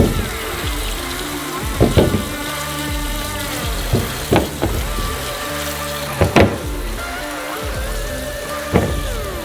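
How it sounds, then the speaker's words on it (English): Water runs into a kitchen sink as potatoes are washed clean of dirt, a continuous splashing stream broken by several sharp knocks and clunks of potatoes against the basin. "And the potatoes into the sink. We need to clean them thoroughly from the dirt."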